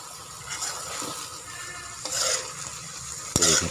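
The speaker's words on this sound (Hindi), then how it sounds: "तो देखिए पानी खुश्क होता जा रहा है।" Chickpeas simmer down in a pot as their cooking water boils off while making a chana masala street-food burger, giving a soft, steady sizzle with faint stirring scrapes and a brief sharper clink near the end.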